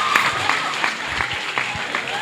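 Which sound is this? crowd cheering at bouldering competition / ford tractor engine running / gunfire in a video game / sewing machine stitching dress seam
crowd cheering at bouldering competition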